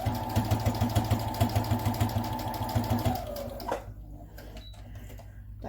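A sewing machine runs fast, stitching diagonally across a fabric mask in an even, rapid mechanical chatter, then stops with a soft clunk and only faint background noise follows.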